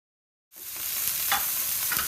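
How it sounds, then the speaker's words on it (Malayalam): Onions for a Kerala-style chicken curry sautéing in hot oil, a sizzle that cuts in abruptly after half a second of silence, then holds steady and close with a couple of faint stirring scrapes. "ഇതേപോലെ നന്നായിട്ട് വഴറ്റിയെടുക്കണം"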